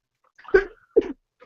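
A single person sneezes indoors, a short sharp two-part burst that is close and fairly loud, followed by a faint breath in otherwise near silence.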